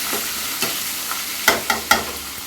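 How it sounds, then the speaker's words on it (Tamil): Onion and green chili sautéing in a frying pan, a steady sizzle under a run of spatula scrapes and taps that grow sharper and louder toward the end, with no voices. "இப்போ வந்து வெங்காயமும் பச்சை மிளகாவும் வதங்கட்டங்க"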